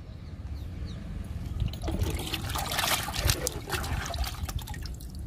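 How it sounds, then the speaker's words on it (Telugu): Liquid fertilizer poured onto a potted curry leaf plant, a steady close trickling and splashing of water that swells midway and runs continuously without speech. "కరివేపాకు మొక్కకి ఇచ్చేద్దాము లిక్విడ్ని"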